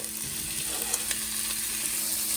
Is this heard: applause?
no